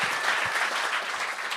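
A studio audience at a televised talent show claps in a brief, dense burst of applause, steady and moderately loud throughout.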